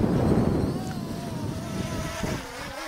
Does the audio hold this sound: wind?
yes